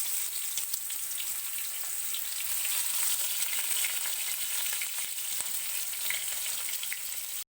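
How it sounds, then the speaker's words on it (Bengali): Pointed gourd (potol) pieces coated in salt and turmeric frying in hot oil give a loud, steady, dense sizzle with scattered crackles and pops, close and alone without talk. "এবার পটলগুলোকে ভেজে নেব।"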